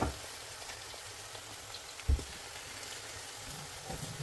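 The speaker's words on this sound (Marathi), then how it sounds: "कांदा आपला चांगल्या प्रकारे आणि मिरची पण चांगल्या प्रकारे फ्राय झालेली आहे" Onion and capsicum fry steadily in a pan for paneer bhurji, giving a soft, even sizzle with a brief clatter of stirring partway through.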